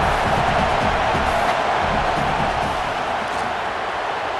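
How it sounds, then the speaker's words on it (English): A large stadium crowd in EA Sports College Football 27 roars steadily during a field goal attempt, a dense, continuous wash of cheering and shouting that stays loud throughout without a break. "This crowd trying to do its part to get inside the kicker's head."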